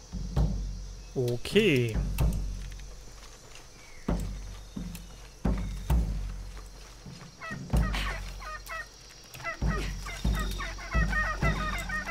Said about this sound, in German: Die Hähne sind ganz schön laut.